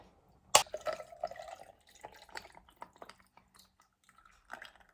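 Liquid is poured over ice into a cup for an iced matcha latte: a sharp clink at the start, then trickling, dripping splashes that fade into scattered small drips, close and fairly quiet.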